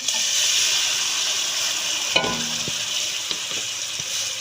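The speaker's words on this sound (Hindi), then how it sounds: "प्याज को हम कढ़ाई में शामिल करने लगे हैं" Ground onion paste frying in a kadhai for a salted onion-and-meat dish, a bright, steady sizzle broken by a few clear knocks of a spoon as it is stirred close up.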